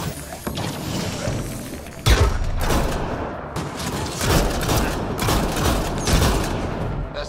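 Sustained gunfire from hostile Remnant constructs in Mass Effect Andromeda rattles on in dense, loud bursts, with sharp heavy impacts breaking through the continuous volley.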